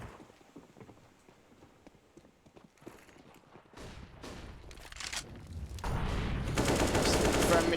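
Automatic rifle fire from AKs in a Counter-Strike match on dust2, starting faint and sparse under game noise and quiet commentary, then swelling into loud, dense, sustained bursts in the final seconds.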